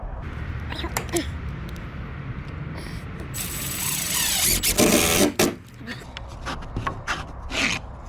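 Large hinge screw being driven into a wooden door in a workshop, a grinding, ratcheting rub that swells and holds for a couple of seconds mid-clip, surrounded by shuffling handling noise and brief clicks.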